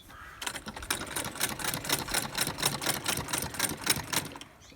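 A sewing machine stitches a French seam on a fabric bag, running in a fast, even rhythm of mechanical clatter that stays close and fairly loud throughout.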